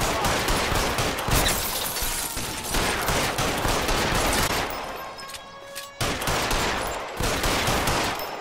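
Gunfire in the video game L.A. Noire Remastered during a shootout, a dense, loud barrage of rapid shots that continues almost without pause, with a brief lull before it resumes.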